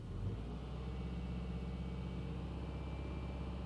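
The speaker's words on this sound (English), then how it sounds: "Let's rev this thing up a bit and see what it does here." Car engine held at a steady raised idle around 2,500 RPM, a continuous low rumbling drone close by with no talk; the engine has a P0420 catalytic converter fault.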